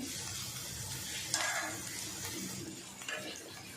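Poha being tipped into a pan with corn and stirred, a soft steady sizzle with a brief rustling pour and a couple of light spatula scrapes close by.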